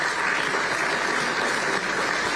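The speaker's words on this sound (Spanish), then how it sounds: "Y después arranca el aplauso." Sustained audience applause following a political speech in Uruguay, a dense, steady clatter of many hands that holds at an even level throughout without anyone talking over it.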